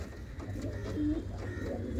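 Soft, low cooing from a pair of pigeons, a red Chinese hen and a red sara cock, in a loft with eggs; the murmuring coos repeat faintly and steadily, with no talk.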